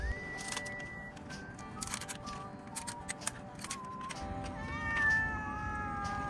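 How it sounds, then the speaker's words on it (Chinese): A small black stray cat on a roadside meows repeatedly in short, rising calls of varying pitch, fairly close, with light rustling and clicks around it and no talking. "出晒嚟啦，黑貓嚟啦"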